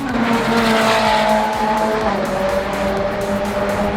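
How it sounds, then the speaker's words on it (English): A McLaren 720 GT3 race car lapping Circuit of the Americas during a time attack event, its engine holding a loud, steady high-revving roar with faint tire squeal throughout, close and continuous. "Mr. Cameron Lawrence and Rafael Martinez in their McLaren 720 GT3, Rafa Racing."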